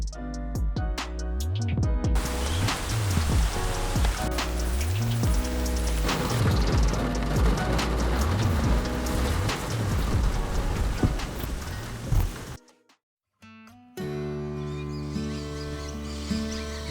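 Rain falls on a camper van at night, a dense steady patter with low thunder-like rumbles, broken by a short near-silent gap before resuming more thinly.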